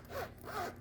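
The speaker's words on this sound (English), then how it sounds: "Let's check to see if the zipper is zipping" Zipper on a leather-feel makeup bag drawn in two short rasping pulls, close and quiet with nothing else heard.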